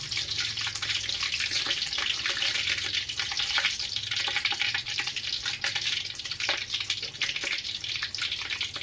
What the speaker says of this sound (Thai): เราทอดเนื้อมันสินุ่มหน่อย